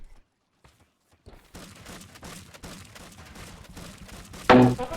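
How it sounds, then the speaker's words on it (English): Spud Gun firing in the video game Scrap Mechanic: after a quiet start, a rapid string of popping shots, ending in a single louder, harsher blast. "On the regular old Spud Gun, it's left click to fire."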